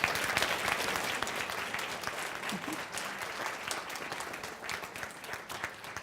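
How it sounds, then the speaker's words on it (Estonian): A conference audience gives steady applause, a fairly distant, even roar of many clapping hands that eases off slightly as it goes on, with a faint voice briefly under it. "Suur aplaus sulle, aitäh!"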